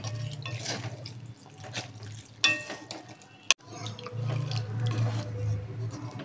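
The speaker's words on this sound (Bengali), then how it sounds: "এটা হতে 3 কাপ দুধ দেবো, এই যে দুধ এটার মধ্যে দিচ্ছি।" Milk being poured into a pan for malai chicken, a soft continuous liquid stream running for several seconds with a brief clatter midway, close and fairly quiet with no talking.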